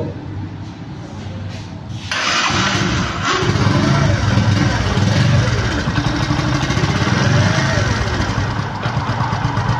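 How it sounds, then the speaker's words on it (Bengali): Motorcycle engine idling with free throttle, the exhaust silencer giving a steady mid-pitched rumble that grows louder and fuller after about two seconds, close to the microphone. "এটা ফ্রি অ্যাক্সেলেটারের ইঞ্জিনের সাউন্ড, ফ্রি অ্যাক্সেলেটারের সাইলেন্সারের।"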